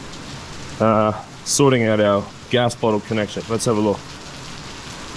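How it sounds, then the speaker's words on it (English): Heavy wet-season rain pours down in Chiang Mai, Thailand, as a steady hiss under someone talking close by. "in the pissing down rain"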